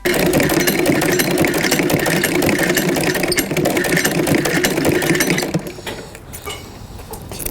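An elderly patchwork seamstress's sewing machine runs in a loud, steady, close mechanical clatter for over five seconds, then slows and fades to quiet, uneven ticking.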